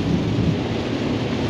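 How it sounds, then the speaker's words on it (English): A thunderstorm with rain in Las Vegas: a low rolling rumble of thunder over a steady wash of rainfall, close and loud for the brief moment, with no talk. "we finally get a lot of rain in Las Vegas"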